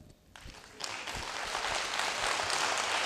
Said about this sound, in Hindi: सबसे बढ़िया एक्सरसाइज है ताली बजाना